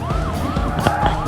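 A police siren in the Grand Theft Auto V game sweeps up and down in a wailing pattern, mid-distance, with a car passing underneath.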